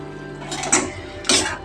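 Kovakkai (ivy gourd) poriyal stirred in a pan, with two short, fairly loud bursts of scraping and rustling over a low steady background hum.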